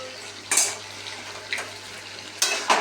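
Braised chicken stirred in a wok, a low background sizzle broken by four sharp spoon scrapes and clinks against the metal pan, no talking.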